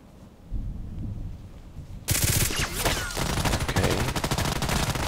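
A gun in the Contract Wars shooter fires dense, rapid bursts of shots over rumbling game ambience, loud and close and continuing steadily after a sudden onset.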